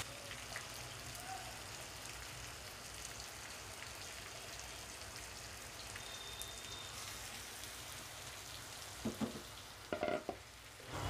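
Fish curry with garlic, ginger and spices sizzles steadily in a pan, a soft continuous crackle that stays fairly quiet, with a few louder clatters of stirring near the end.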